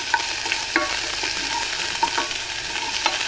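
Dried red chili, garlic and carrot fry in oil for upma, a continuous close sizzle broken by several sharp clinks and scrapes of a spoon stirring against the pan, with no talking.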